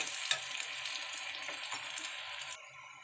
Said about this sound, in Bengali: আমার কিন্তু পেঁয়াজটা লাল করে ভেজে নেওয়া হয়ে গেছে